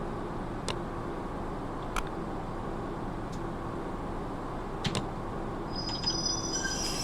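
A metro train in the game Metrogether slows toward a stop, a steady rumbling rolling noise with a few sharp clicks and a thin brake squeal near the end.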